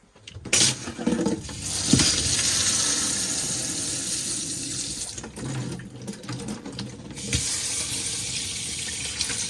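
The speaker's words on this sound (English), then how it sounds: "That's your hot water working there." Hot water gushing from a tap into the sink of a Swift Kon-tiki 625 caravan washroom, a steady close splashing flow that starts abruptly and continues with small shifts in pitch, no talking.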